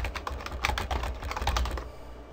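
Quick typing on a computer keyboard, a short close burst of light clicking keystrokes that stops after about two seconds.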